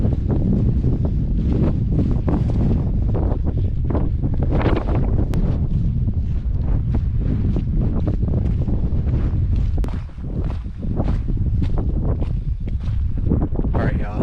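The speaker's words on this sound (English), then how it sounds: "I'm sure you can't hear me very well because the wind is really bad" Strong wind buffets the microphone at a trail campsite along the Pacific Crest Trail near Laguna, a loud, constant roaring rumble with gusty bursts and a brief dip near the end.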